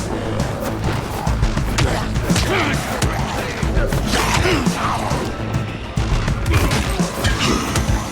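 Loud, chaotic action in Dying Light: The Beast with repeated explosive bursts and crashing impacts, dense and continuous with a few sharper blasts standing out.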